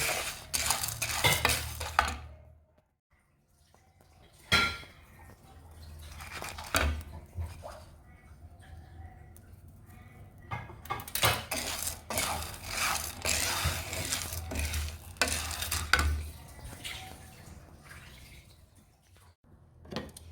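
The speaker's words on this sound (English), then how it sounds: "Just pour the gari and the soya beans in your frying pan, place on the fire and stir." Repeated scraping and rattling of a spoon stirring dry soya beans and gari in a frying pan over a fire, in bursts with pauses, close and moderately loud.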